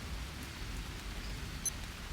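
Steady rainfall in the GHVR survival game, a dense even hiss of falling rain with no talk and no thunder.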